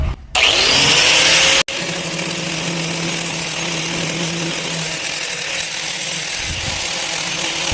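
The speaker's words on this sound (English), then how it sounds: "whenever you grind, you're better off to let the tool do the work" A power tool grinds a plastic bumper during a plastic-welding repair, starting as a loud, harsh burst for about a second and then settling into a steady, close whine with a rough edge that holds to the end.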